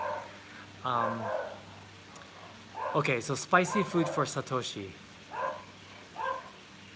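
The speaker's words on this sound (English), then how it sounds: "Is that my sister's dog?" Dog barking from a little way off in Hawaii, in several quick barks midway under a person talking nearby.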